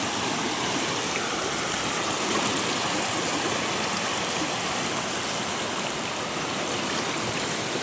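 Steady, loud rushing of a stream and waterfall running high after rain, a dense unbroken roar of flowing water throughout, close by and with no voices.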